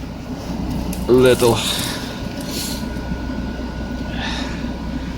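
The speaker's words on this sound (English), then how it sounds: "I will let the car to warm up" A Citroen C5 engine idles steadily while warming up on a cold winter day after a jump start, a constant low hum running throughout with someone briefly talking over it near the start.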